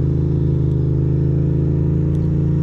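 A Ducati motorcycle being ridden from Queens to Brooklyn: a loud, steady engine drone at close range, with a throbbing low rumble that holds an even pitch the whole time and no voices.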